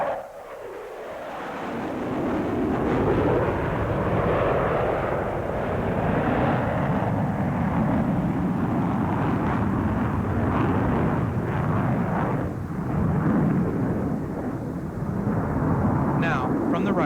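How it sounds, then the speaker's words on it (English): A US Navy F-14 Tomcat fighter jet flies at the 1993 Portland Air Show during the Rose Festival, making a loud, steady jet roar that swells and holds throughout with no break. "The United States Navy presents the F-14 Tomcat and the Sound of Freedom."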